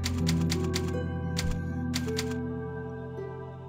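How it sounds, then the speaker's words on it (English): Rapid mechanical typewriter clacks from the save typewriter in Resident Evil 4, a burst of keystrokes followed by a pause and a second shorter flurry, loud and close over a steady low game ambience. "Typewriter. Activate."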